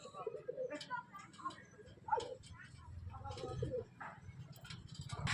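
Madras pigeons, a green hen and an ebony cock, coo softly in repeated low murmurs amid other bird calls and small ticking noises, with background chatter under the sounds.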